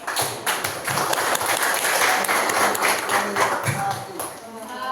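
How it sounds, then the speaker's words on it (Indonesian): Classroom applause for a student group, a dense, continuous patter of many hands clapping together for several seconds, with a few thumps and voices mixed in beneath. "tepuk tangan untuk kelompok"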